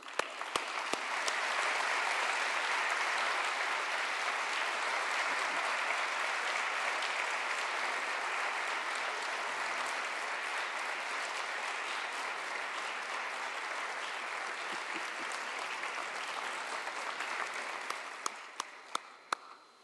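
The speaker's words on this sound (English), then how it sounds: "Let's give them a big round of applause." A school audience at a county superintendent's state of education address applauds steadily for nearly twenty seconds, a dense, even wash of clapping that tapers off with a few last claps at the end.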